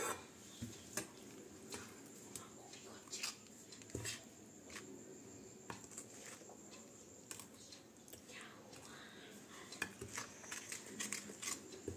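A spoon or whisk stirs milk into Oreo cake batter in a bowl, giving a string of faint clinks and taps against the bowl with soft scraping between them. The sounds are close and quiet.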